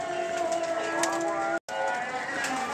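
Sick pigeons in Faisalabad, Pakistan cooing steadily close by, a soft continuous murmur with a brief dropout partway through, over faint background noise.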